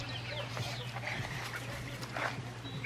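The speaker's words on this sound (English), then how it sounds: "here's the chicken" Backyard chickens give soft, scattered clucks and short calls close by, over a steady low hum.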